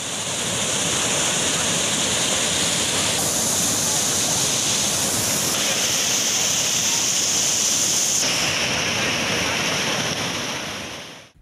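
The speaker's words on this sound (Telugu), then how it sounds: "సుమారు 1500 క్యూసెక్కుల నీటి ప్రవాహం హంద్రీనివా నుంచి ప్రవహించి సోమవారం నాటికి అనంతపురం జిల్లాను తాకింది" Water from a river canal, about 1500 cusecs, rushes past in a constant loud roar with a windy edge, filling the scene without voices.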